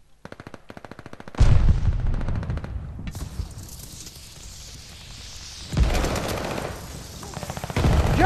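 Rapid automatic gunfire from an anime-themed gun in the shooter game Vanguard, loud and close: a ticking rattle of shots, then heavy bursts with explosive blasts that swell, fade to a rumble and flare up again.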